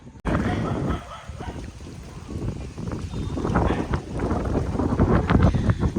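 Strong gusting storm wind with rain and lightning roars and buffets the microphone continuously, with a steady rushing noise and occasional dull thumps; a voice speaks briefly underneath.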